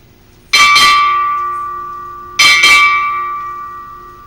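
Four bright strikes of a ship's bell at a US Navy change of command ceremony, grouped as two close pairs, each pair leaving a sustained metallic ring that slowly decays.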